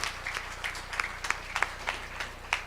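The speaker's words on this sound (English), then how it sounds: "So give the children a round of applause." Light clapping from a small audience for children musicians at a Hindu temple during a Krishna Janmashtami gathering, a thin scatter of crisp hand claps falling into a loose beat, fairly close.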